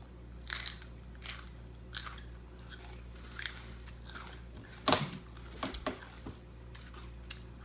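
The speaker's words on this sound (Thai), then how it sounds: "ฟังเสียงกรอบ" Crunchy bites of fresh raw vegetables eaten alongside white rice noodles, heard as several close, crisp crunches and chewing sounds spread unevenly over a quiet background.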